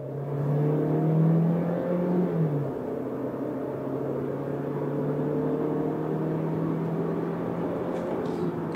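A 2023 Chevrolet Equinox RS pulls away hard from a standstill, its engine droning loudly and steadily close by, with the revs rising in an early swell before settling into a sustained hum.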